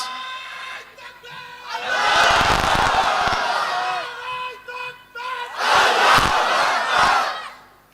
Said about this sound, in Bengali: একজন ভাই নাই জোরে তাকবীর দেওয়ার কেউ নাই?